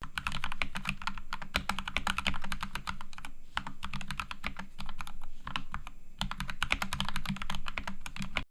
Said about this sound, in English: just want to remind you how this used to sound with the Gateron Reds lubed.